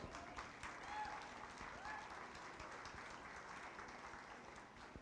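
An audience at a county 4-H fair meat goat show claps for the young exhibitors, a steady, fairly soft round of applause filling the whole stretch with no pauses.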